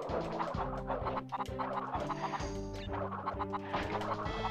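A chicken clucking in the video game Crash Bandicoot 3: Warped, with repeated short clucks over a steady, rhythmic game music loop at moderate level.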